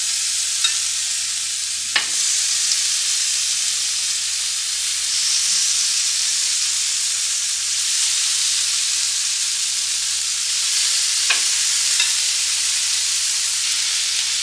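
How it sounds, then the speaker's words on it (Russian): Octopus laid on a preheated grill, giving a steady broadband sizzle and hiss throughout, with a couple of brief sharp clicks or clatters near the start and middle; no talking. "Самое время выложить осьминога."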